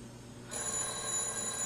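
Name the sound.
telephone ringing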